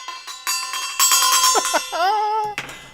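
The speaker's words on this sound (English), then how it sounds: "I'm banging the gong again." A gong struck at home during an alto rehearsal, loud metallic strikes with ringing, bending tones that sustain and decay, followed by a fresh hit near the end.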